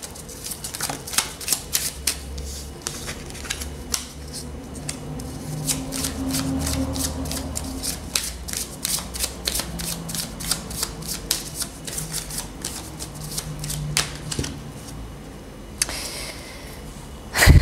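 Tarot cards are shuffled steadily and close up, a dense run of crisp riffling flicks continuing for most of the stretch with no talking over it.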